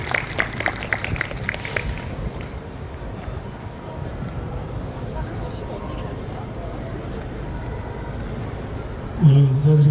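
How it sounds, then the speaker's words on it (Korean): A crowd at an outdoor memorial culture festival for the Sewol ferry disaster claps in a brief burst of applause that fades into ambient murmur, followed by a loud closer noise at the end. "큰 박수로 맞이해 주세요."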